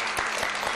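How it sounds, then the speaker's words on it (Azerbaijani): A brief, dense burst of clapping from a group at a theatre workshop in Mardakan's Palace of Culture, lasting under a second. "Bravo, alqışlayaq özümüzü."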